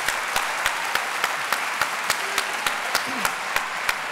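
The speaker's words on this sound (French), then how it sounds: "Vous êtes très mignon à être en train d'applaudir" Audience applause during a French talk on whether to have children, a steady wash of clapping with sharp individual claps at a regular rhythm, brief voice traces underneath.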